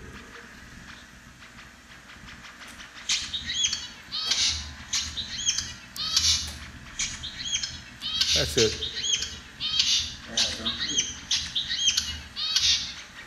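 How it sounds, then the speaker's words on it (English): Zebra finches singing song bouts: rapid, bright chirps and tweets repeat in steady phrases for most of the stretch, near and clear over a low background hum, with a brief spoken phrase at the end. "here's a short example of the zebra-finch song bouts."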